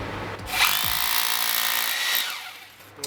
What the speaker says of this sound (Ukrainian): акумуляторний з модулем перфоратор так само без проблем працює